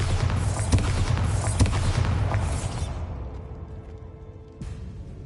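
A Bombarda blasting spell goes off in a Harry Potter video game as a loud, rumbling explosion with a few sharp thumps, fading after about three seconds into quiet, followed by a brief swoosh near the end.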